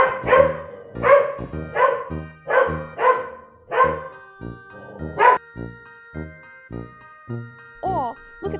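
A run of about seven rhythmic barks repeats evenly, followed by quieter tinkling, chiming tones; the barks may be a voice imitating a dog.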